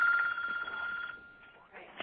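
A phone ringtone trills loudly in a radio studio for about a second, then fades as a voice starts speaking.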